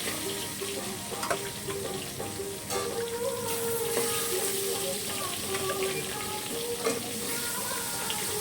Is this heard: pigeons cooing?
no